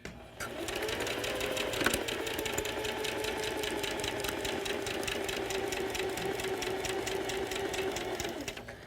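A sewing machine stitching a fabric seam on a scrap-fabric change purse, a rapid, even needle chatter running close and steady for several seconds with no talking.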